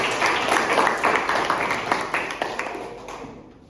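Students clapping together in a class, a brisk run of rhythmic group claps that fades gradually toward the end.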